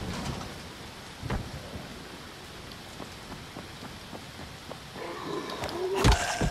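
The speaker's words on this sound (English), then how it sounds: "It's pouring rain." Steady pouring rain hisses in Dying Light: The Following, with scattered faint taps and thuds over the wash and a louder rumble and clatter near the end, no voices.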